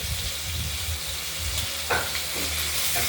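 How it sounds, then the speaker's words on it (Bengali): Pieces of katla fish coated in salt and turmeric fry loudly in hot oil, a dense continuous sizzle with a few brief spatters and stirring knocks near the end. "প্রথমে কাতলা মাছ আমরা কেটে পিস করে নুন হলুদ মাখিয়ে ভেজে নিচ্ছি"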